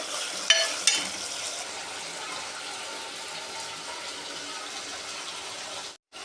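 Chicken curry kulambu sizzling in oil in a pan, a steady broad frying hiss throughout with a couple of brief clinks near the start and a short gap near the end.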